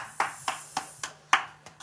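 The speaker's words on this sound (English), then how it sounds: "Round of applause." A small group claps briefly during an indoor couples counselling talk: a handful of crisp, close claps at an uneven pace, one louder than the rest, with a faint steady hum and no speech.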